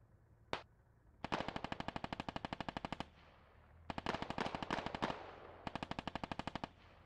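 Gunfire in the Squad Ops video game: a single sharp shot, then three long rapid bursts of automatic fire separated by short pauses, loud and close with no talking.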